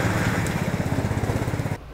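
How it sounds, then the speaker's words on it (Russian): A karakat, a homemade all-terrain vehicle with a small engine and Volga axles, drives past, its engine chugging in a fast, even pulse that stays fairly loud before cutting off abruptly near the end. "Вон едет каракат с охотником."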